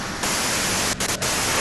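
Radio white noise in the Disco Elysium game hisses loud and steady, a dense broadband static that starts abruptly and briefly drops out twice in quick cutouts before resuming.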